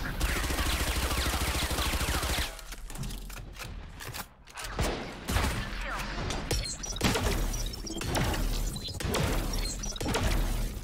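Flashbang and gunfire from a Valorant match, with dense, loud bursts of shots and sharp cracks coming in rapid clusters over steady game noise.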